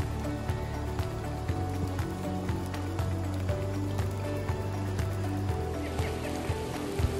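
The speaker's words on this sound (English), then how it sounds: "it just started to hail on us" Hail pelts down on a hiking trail to Lake Winnemucca near South Lake Tahoe, a dense steady patter of sharp small impacts sounding close and continuous for several seconds with no talk over it.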